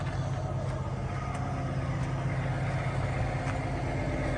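A warm 2023 Peterbilt 389 truck engine idles with a steady low rumbling drone, close and continuous, with no talking.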